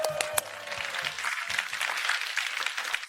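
A studio audience gives a faint, distant round of applause, light scattered clapping heard after a few brief music or voice notes at the start.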